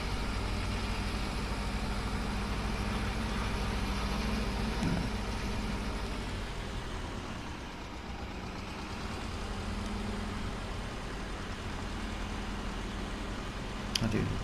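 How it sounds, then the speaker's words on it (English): A tractor engine idles and hums steadily in Farming Simulator 22 on console, a continuous low drone that holds for the whole stretch, with faint clicks near the end. "I do love the sound of the engine."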